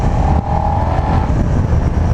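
A 2019 Suzuki SV650X motorcycle rumbles at low pitch while being ridden, a loud, steady engine drone with a faint whine, up close and continuous.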